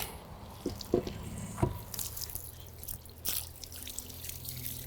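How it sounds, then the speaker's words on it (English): A board is rinsed under cold running water at a farm sink, with a quiet trickle broken by several distinct drips and splashes. "I'm going to give it a rinse under cold water, just to make sure I get all the extra salt off"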